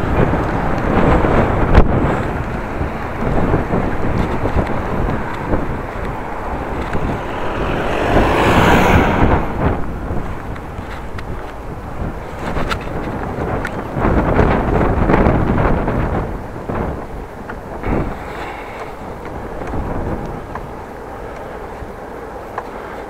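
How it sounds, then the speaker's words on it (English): Wind buffets the microphone in loud, gusty rumbles while a bicycle rides through the city of Groningen, with a stronger gust rising in the middle and the roar swelling and easing throughout. "but wind is making it quite cold, so not that nice to drive."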